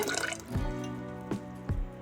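A few soft splashes and drips of water landing in a pot of dal with raw mango pieces, separated by short pauses, heard alone at close range.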